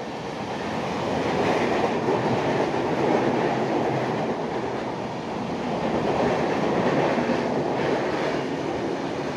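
A train rolls past with a continuous heavy rumble and rhythmic wheel clatter, swelling and easing slightly, close and loud with no talking.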